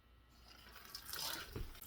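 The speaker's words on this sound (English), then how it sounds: "And you just want to gently massage and rinse your papaya seeds." Cold tap water runs over papaya seeds held in a fine mesh strainer, a soft steady splashing and trickling that swells slightly partway through, close and fairly quiet with no talking.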